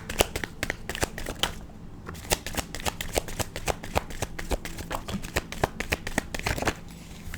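Tarot cards being shuffled and drawn by hand, a steady run of crisp, close riffling slaps and flicks over about seven seconds, with a faint low hum beneath and no talk.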